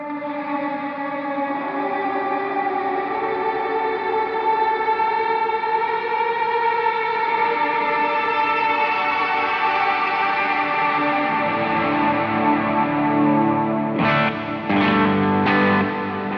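Sustained guitar chords through a MIDI-controlled pedalboard, smeared into a dense, washy wall of reverb, tones swelling and blending continuously, with a couple of brighter stabs near the end.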